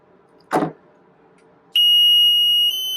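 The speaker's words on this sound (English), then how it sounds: "we'll take it up to 78 and see it alarm" A temperature controller sounds its high deviation alarm as the reading climbs past the set point: a brief rustle, then a steady, loud electronic tone that holds unbroken to the end.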